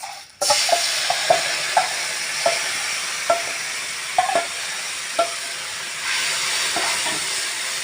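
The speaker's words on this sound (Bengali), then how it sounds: "এখন আমি মশলাটা ভাজা নেব।" Spices sizzle steadily in a pan after chopped onion was fried, for a duck egg and potato curry, with a run of sharp spatula scrapes and taps recurring through the hiss; no talk.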